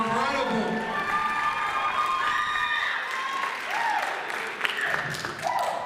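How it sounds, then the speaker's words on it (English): An audience applauds with steady clapping mixed with cheers and shouts from the crowd, lasting several seconds with some voices rising over it. "Let's clap it up one more time."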